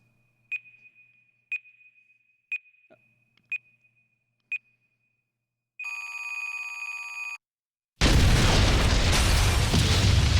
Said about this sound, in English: Will anyone survive this time bomb?